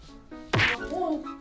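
A single soft thud of a kitten swatting something with its paw lands once amid a quiet room, followed by a faint murmur.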